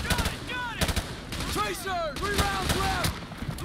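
Gunfire in the Call of Duty Modern Warfare 2 video game, in the Washington under siege mission: rapid, loud rifle shots in quick bursts, with sweeping whistling tones and battle noise all around.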